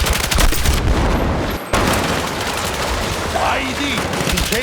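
Rapid gunfire and explosions fill a battle in the Battlefield 6 video game, dense and loud throughout with a brief dropout, under shouted voices.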